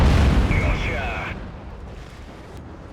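A tank cannon shot and shell impact in World of Tanks, a heavy booming blast up front that decays into a rumbling tail with a brief metallic ring, fading over a few seconds.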